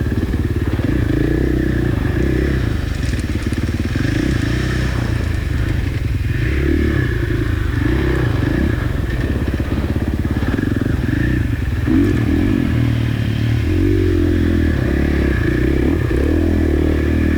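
Dirt bike engine held at full throttle during a hare scramble race at Whiskey Creek, a loud, steady rasping drone that runs unbroken throughout with rough clatter over it, close by and with no talk.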